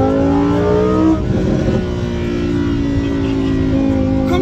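A Lamborghini engine revs hard and close, its exhaust popping and crackling as the tone drops. A steady lower drone continues afterward with no talk.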